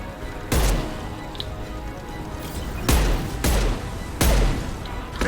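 A hand cannon pistol fires in Mass Effect 2, with four heavy, sharp shots spaced about a second apart over a constant loud combat background.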